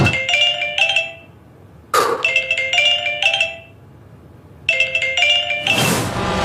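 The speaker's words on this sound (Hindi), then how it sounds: "अब मुझे फोन आ रहा है" A phone ringtone plays a repeated chiming melody in three bursts with short pauses between, clear and close, no voices.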